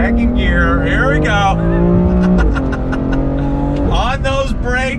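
BMW M4 (2020) accelerating hard in second gear on a track, engine note climbing in pitch through the revs with a gear change, loud and close, with someone talking over it.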